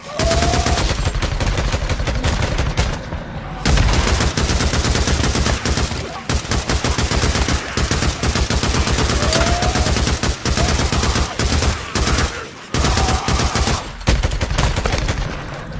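Dense, loud gunfire in the video game Days Gone roars in long rapid bursts, nearly continuous with a few brief pauses, during a horde fight.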